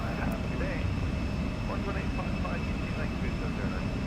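Embraer E170 jet engines accelerating in the X-Plane 12 flight simulator, a steady heavy roar with a thin high whine running through it, heard under speech.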